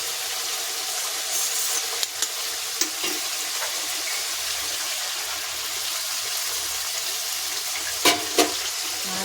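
Sour yogurt being stirred into mustard and poppy seed rohu fish frying in a pan, a steady sizzle throughout with a few light utensil clinks and a couple of brief louder scrapes near the end.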